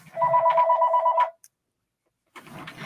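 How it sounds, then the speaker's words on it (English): A telephone rings with a rapid warbling electronic trill for about a second, then cuts off; after a pause, faint talk begins close by. "I hear a phone ringing."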